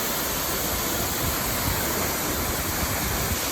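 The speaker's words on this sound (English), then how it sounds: "And here we have Horsetail Falls." Horsetail Falls in the Columbia River Gorge roars as a dense, steady wash of falling water, loud and close, with no voices over it.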